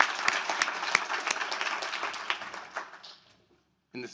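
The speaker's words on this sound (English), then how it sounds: "And so if I can just have one last round of applause for those people." A round of applause at a panel event on online speech: brisk, dense clapping with sharp individual claps, fading out near the end before a brief silence and a short final sound.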